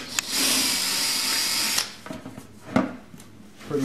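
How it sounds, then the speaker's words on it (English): A power drill whines steadily for nearly two seconds, drilling vent holes in a plastic purple martin gourd birdhouse, then stops, followed by a few quieter clicks and a brief burst of the motor. "you have to drill vent holes under these little canopies"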